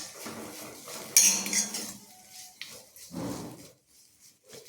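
A spoon clinks and scrapes against a cooking pot while turmeric and salt are stirred into a thoran, giving a few bright metallic taps and short rustling scrapes at close range.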